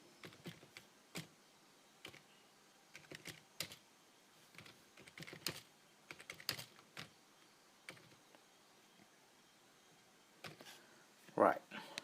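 Computer keyboard typing, with scattered bursts of soft key clicks spread across the span and pauses between them, fairly close but quiet. A brief voice sound comes near the end.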